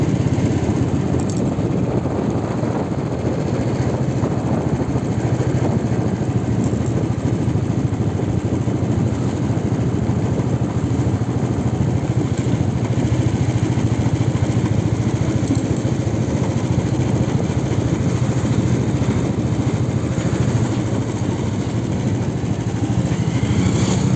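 A motorbike rides at night along a railway overbridge on Indore's Super Corridor, its engine drone steady and continuous throughout with road and wind rumble, no talking.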